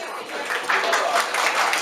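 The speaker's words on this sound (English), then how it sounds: "Once again, everybody, please clap for these kids." Sustained applause from an audience at a Ramadan event after a children's performance, a dense wash of clapping that swells slightly and continues steadily throughout.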